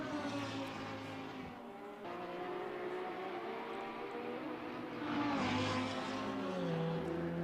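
Lamborghini race car in iRacing at Grobnik, engine note rising and falling as it passes through a corner, a continuous whine with pitch sweeps, no talk.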